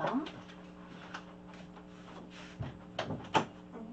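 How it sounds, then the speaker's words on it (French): A door shutting inside a home, with a few soft knocks and a small thud among low background noise. "je vais fermer la porte"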